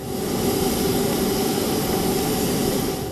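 Jet engine noise from an Embraer E195-E2 airliner, a steady loud broadband roar with a low rumble, continuous and unbroken, no voices.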